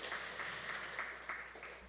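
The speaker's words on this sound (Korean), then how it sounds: "박수로 환영해 주시기 바랍니다." An audience claps at a ceremony for Korea's 24th Senior Citizens' Day, giving a soft, steady round of applause heard from a distance at low volume.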